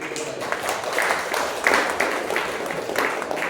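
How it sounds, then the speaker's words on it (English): Clapping from the audience at a Toastmasters chapter meeting, a dense patter of many hands with a few sharper claps standing out, continuing steadily at a fair distance. "definitely I will give you a round of applause for you"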